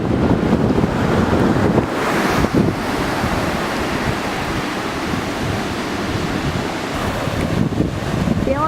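Ocean surf rolling onto the beach at Ocean City, New Jersey on a warm November day, a steady broadband wash of breaking waves mixed with heavy wind buffeting against the microphone, continuous throughout.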